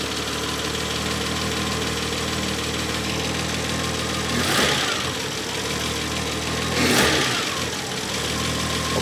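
Renault 25 V6 Turbo engine idling steadily at a close, even level, with two brief surges around the middle and later as the idle dips and recovers.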